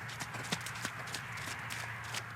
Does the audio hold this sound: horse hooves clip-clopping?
yes